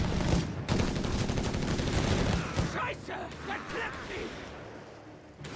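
Rapid bursts of machine gun fire mixed with other gunshots and explosions in the strategy game Company of Heroes 3, dense at first and thinning out, with a voice talking over it.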